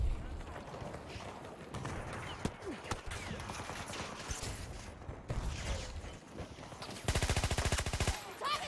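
Gunfire in the video game Battlefield 2042, scattered shots and bursts at moderate level, ending in a loud rapid automatic burst near the end, with a player speaking intermittently.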